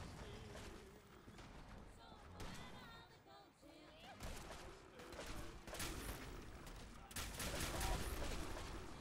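Gunfire in the Fallout video game, rapid repeated shots and bursts mixed with crashes and game effects under a voice talking, fairly busy and continuous.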